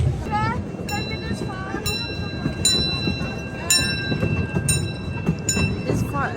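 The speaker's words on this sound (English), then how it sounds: "It's quite a slow train," A slow little theme park train ride at Europa Park in Germany rumbles along steadily, with bright squeals and clicks over the low running noise and people talking nearby throughout.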